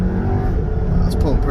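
A tuned 2019 MK7 Jetta GLI with a JB4 pulls hard, its engine droning loudly and rising in pitch under acceleration, with a voice speaking over the engine noise.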